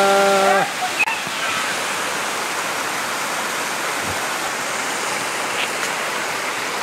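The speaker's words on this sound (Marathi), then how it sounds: "छोटासा धबधबा" A small waterfall rushes steadily close by on a forest trek in Andharban, a continuous broadband roar of falling water with no voices.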